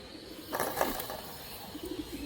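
Pigeons kept as a pair for sale coo softly nearby, a short low burst of calls rising briefly over a quiet background with faint mechanical clicks.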